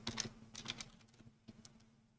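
Quick bursts of keystrokes on a computer keyboard, close and fairly quiet, clustered in the first second and then thinning out to a few scattered taps, with no voice.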